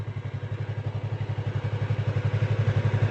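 A motorcycle idles while a beginner practices pulling the clutch in and braking. The engine gives a steady, low, rhythmic chug throughout, close and even, with a faint clatter over it.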